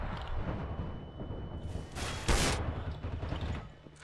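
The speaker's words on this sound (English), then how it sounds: "Oh shit, grenade." A grenade explodes in Counter-Strike: Global Offensive as a sharp loud burst midway, set against dense game noise of gunfire and rumbling action throughout.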